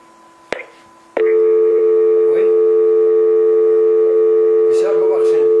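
A click, then a loud steady telephone dial tone drones on after a call-in line cuts off, with brief voices faintly audible near the end.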